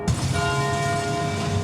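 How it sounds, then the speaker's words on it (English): Church bells at the Cathedral Basilica of the Assumption in Covington toll in mourning for the passing of Pope Francis, a sustained ringing hum with lingering overtones, heard fairly close and alone. "The bells toll for 10 minutes, a sign of mourning for the passing of Pope Francis"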